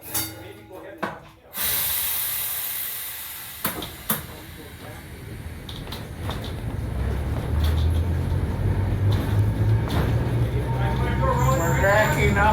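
The Como-Harriet streetcar backs up with a low electric motor hum and rumble of wheels on track that builds gradually, along with clunks and a door-like thud early on, as people talk aboard.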